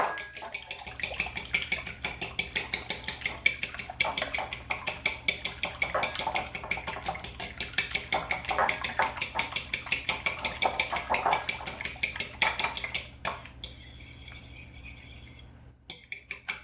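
A utensil beats French toast mixture in a bowl with rapid, steady clinking taps against the side, close and fairly loud, continuing for most of the stretch before slowing near the end.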